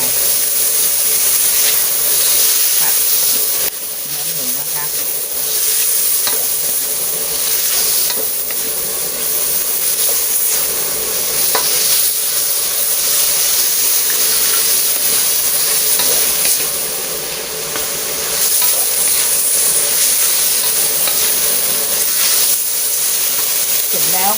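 Long beans and pork stir-fried with oyster sauce in a hot wok give a loud, steady sizzle and hiss, with scraping and stirring throughout and occasional soft background voices.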